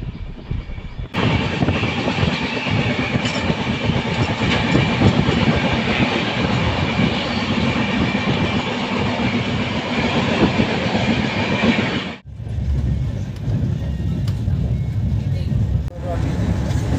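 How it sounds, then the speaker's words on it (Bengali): Tinsukia Express long-distance passenger train running steadily near Rampurhat Junction, West Bengal, a loud continuous rumble with rhythmic clickety-clack of wheels over rail joints, briefly dipping before the roar resumes. "আমাদের ট্রেন উড়িষ্যা ছেড়ে ওয়েস্ট বেঙ্গল রাজ্যের রামপুরহাট জংশনে প্রবেশ করছে"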